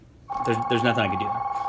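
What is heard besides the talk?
telephone ringing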